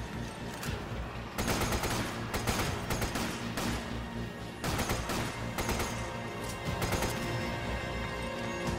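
Dense, rapid bursts of heavy cannon gunfire in Resident Evil 5 with booming blasts, loud and nearly continuous, layered with crashing impacts in a chaotic battle soundscape.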